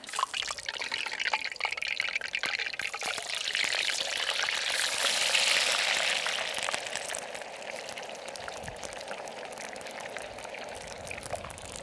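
Hot oil sizzles and bubbles continuously as chips fry, a close hissing crackle that swells louder midway and then settles to a steady fry.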